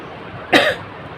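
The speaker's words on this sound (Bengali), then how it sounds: "গলাটা আর কি খুসখুস করে আর কি দু একটা কাশি হচ্ছে" A single short cough from someone with a cold and an itchy throat, sharp and close, standing out against a quiet room.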